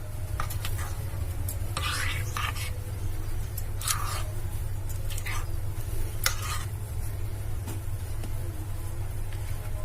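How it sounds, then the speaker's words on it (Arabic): Zalabia dough batter stirred by hand in a bowl, producing soft, uneven wet scraping and slapping strokes at close range over a steady low hum, with no talking. "واقعد اقلب فيها شوية عشان ما تبقاش مكلكعة معانا"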